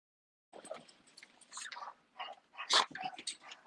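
Bougie, a female dog at a breeding kennel, makes close, irregular mouth sounds, with chewing, snuffling and small whimpers in quick bursts.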